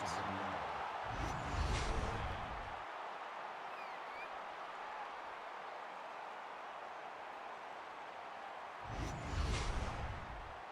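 Stadium crowd at a college football game between Colorado State and top-ranked Alabama, a steady roar of cheering with louder swells near the start and end, under a broadcast commentator's voice.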